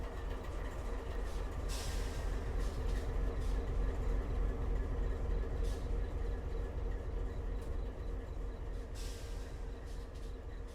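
MSRX and CSX diesel locomotives, including an SD40-2 and an AC44, roll past with a train, giving a steady low rumble and rhythmic clatter of wheels on rail, with a few brief hissing bursts, heard from a moderate distance.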